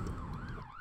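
An emergency vehicle siren wails outside, its pitch sweeping slowly up and down in a steady, continuous tone that sounds moderately distant, with no voices present.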